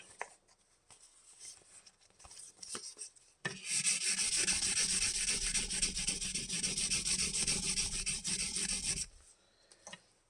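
Fine 1000-grit sandpaper rubbing over Telecaster-style guitar parts, a steady close scratchy rasp that runs for several seconds after a few light scuffs and then stops abruptly.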